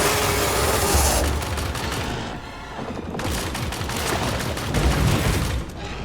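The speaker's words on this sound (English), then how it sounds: "Ooh, that was a nice explosion." Loud, sustained video game gunfire, dense rapid shots from a light machine gun and rifle, with booming explosions near the start and again toward the end, filling the whole stretch without a break.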